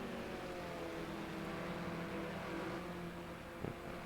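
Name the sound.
BMW 320 E90 car engine in a sim racing video game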